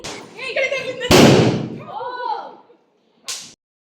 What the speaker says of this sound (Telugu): ఈ ఉల్లిపాయ బాంబులే మంచిదనిపించింది అలా కిందకేస్తుంటే మంచి సౌండ్స్ వస్తున్నాయి